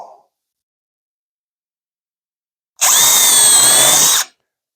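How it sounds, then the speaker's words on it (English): A power drill whines steadily for about a second and a half, pre-drilling into plywood, loud and close, after near silence. "pre-drill and screw"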